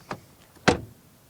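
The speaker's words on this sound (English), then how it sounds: "let's test the door closing sound" A Mercedes CLA 250 Coupé door is shut twice: a light first thump, then a louder, fuller slam about half a second later, both close and distinct in a quiet setting.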